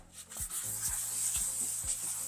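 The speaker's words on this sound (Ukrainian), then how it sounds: "ми замінили губку, тому що наша губка тверда, вона практично нічого не шліфує" Steady close rubbing and scraping of a soft sanding sponge over painted ceramic bathroom tile, a continuous gritty hiss with rhythmic back-and-forth strokes roughly every half second.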